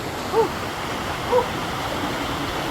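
A waterfall rushes in a steady, broad roar that fills the scene, with a couple of faint whistle-like calls rising briefly over it.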